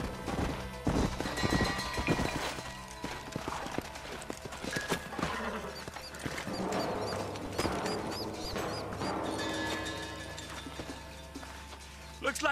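Horses' hooves clip-clop in the Western video game Red Dead Redemption, mixed with game sound and background music, moderately loud throughout.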